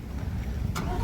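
A 2025 Chevrolet Corvette Z06 convertible fires up with a short, loud burst of engine noise, close by and with no talking.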